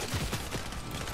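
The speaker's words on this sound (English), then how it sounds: "I'm being shot at." Gunfire in the Fortnite video game: a short, dense fusillade of rapid shots with no talking over it.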